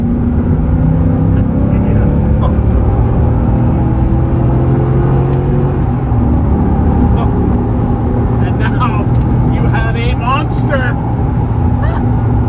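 A 1993 Corvette ZR1 pulls hard in third gear, its engine giving a loud, sustained roar that climbs steadily in pitch, close by, with talk over the top.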